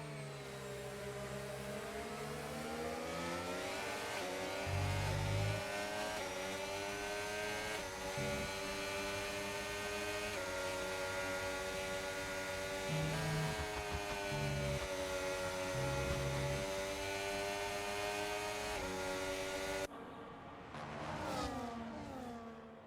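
Mercedes and Alpine Formula racing cars in a British Grand Prix racing video game, high-pitched engines droning and shifting pitch steadily throughout, with a brief drop near the end, no audible talk.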